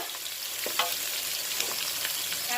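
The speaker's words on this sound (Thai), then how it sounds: "เอาพริกเข้าไปผัดนะจ้าพี่น้องจ้า" Chilies stir-fried in a pan for a chili, bean and pork dish make a constant bright sizzle, with soft, irregular scrapes and taps of a spatula close by and no talking.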